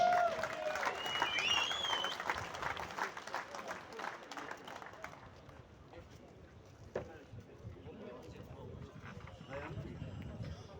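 Applause from an audience at the opening ceremony of a friendship games event in Osh, a dense wash of clapping that is loud at first, fades in the middle and swells again, with a voice speaking over the start.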